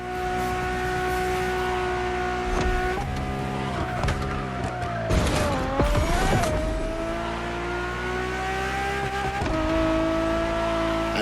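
A Ferrari Enzo supercar engine in the racing game Motorfest drones steadily at high revs, shifting pitch as it accelerates, with a burst of tire squeal and rough noise midway before settling back into a sustained loud whine.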